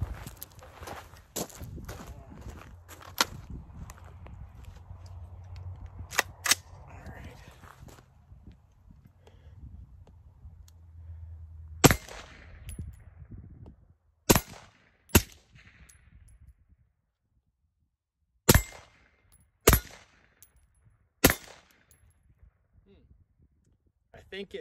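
A rifle's action cycles during a Geissele Super 42 H2 buffer test, giving a run of sharp metallic clacks and several loud isolated shots, with quiet talk early on.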